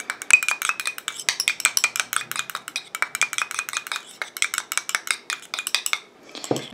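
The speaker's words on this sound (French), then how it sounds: "Et je mélange." A cosmetic lash and brow booster preparation is stirred in a small container, making a rapid series of light clinks and scrapes in an irregular rhythm, close and clear, with a final clatter at the end.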